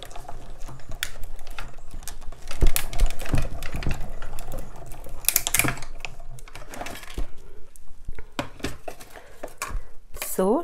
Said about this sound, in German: Und das stanze ich jetzt einmal aus.